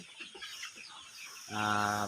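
Many hens on a large poultry farm, about 3000 birds, raise a dense chorus of clucking and calls that swells loudly in the last half-second after a quieter stretch of faint cackles.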